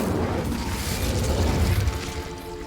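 The Incendio fire spell in Hogwarts Legacy roars as a loud, sustained burst of flame, a dense low rumble with crackling that swells and then tails off.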